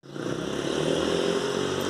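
A motorcycle engine starts up abruptly and holds a steady, buzzing drone close by for a couple of seconds, loud and unbroken, alone without talk.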